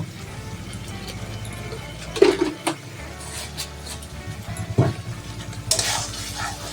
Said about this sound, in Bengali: এবার আমি মশলাটাকে কষিয়ে নিচ্ছি সুন্দর করে মশলাগুলিকে সুন্দর করে কষিয়ে নিচ্ছি